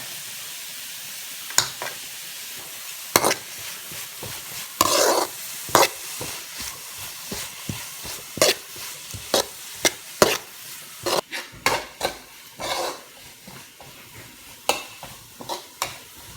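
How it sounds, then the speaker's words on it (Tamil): Onions and curry leaves sauté in a pan for tomato rice, with a spatula scraping and knocking in irregular sharp strokes over a steady low sizzle, close and fairly loud, without any talking. "வெங்காயம் வதங்கிட்டே இருக்கிற நேரத்தில் அதில் கொஞ்சம் வந்து கருவேப்பிலை ஆட் பண்ணிக்கோங்க"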